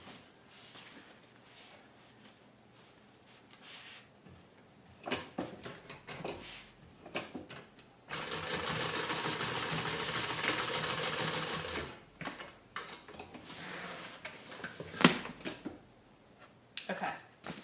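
A sewing machine bastes stitches straight across fabric for a range bag, running in a steady dense burst of about four seconds, with quieter handling and rustling of the fabric before and after.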